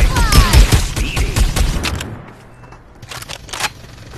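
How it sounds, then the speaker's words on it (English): Artillery and gun blasts in the video game PUBG Mobile come in a dense, loud volley of overlapping shots, then fade to a quieter stretch with a few sharp mechanical clicks near the end. "Time for some artillery."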